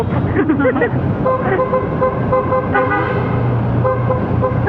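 A car horn toots repeatedly amid busy street traffic, with engine rumble and a long low horn blast near the end; voices in the background.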